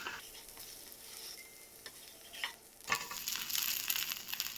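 A rava dosa fries in oil on a pan, its soft background sizzle jumping to a louder, brighter crackle partway through as the crepe is handled and flipped.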